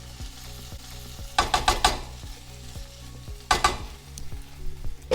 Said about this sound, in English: Just open it up occasionally so that the potatoes don't stick to the pan and give it a stir again.